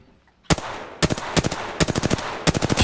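Video game gunfire during a match: a half-second of quiet, then loud close bursts of rapid automatic shots in several volleys, each a tight cluster of sharp cracks with brief gaps between.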